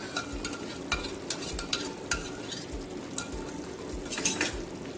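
A spoon scrapes and clinks against a pan in quick repeated strokes as a chickpea curry with curd is stirred over a low, steady sizzle.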